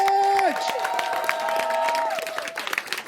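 An audience at a listening party in London applauds and cheers through most of the clip, with music or tonal sounds at first and scattered claps trailing off toward the end.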